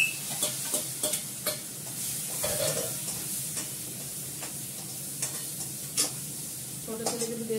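Ginger paste frying in a pan, with a steady close sizzle broken by repeated sharp scrapes and knocks of a spoon stirring against the metal, and a brief bubbling burst near the end.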